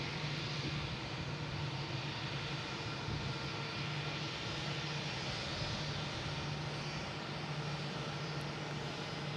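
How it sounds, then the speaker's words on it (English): Lufthansa Airbus A380 on its landing run at Boston Logan airport, a sustained broadband jet-engine roar with a faint steady whine, holding constant and moderately distant, without talk. "Just had Lufthansa A380 land."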